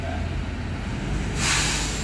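A bus air brake releases a sudden loud hiss partway through, cutting through a low idling engine rumble outside Nottingham Broadmarsh bus station.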